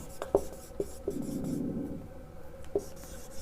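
Chalk or marker scratching across a board during a thermal conduction lecture, with several short sharp strokes and a sustained rubbing stretch in between, fairly close and alone without talk.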